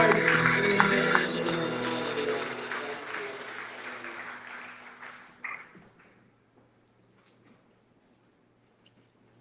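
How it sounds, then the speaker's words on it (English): Church congregation clapping in praise during a worship service, a dense wash of applause that builds loudly then fades out over several seconds, with a brief spoken word near the end before near silence. "can we give the loudest clap of praise to our Lord?"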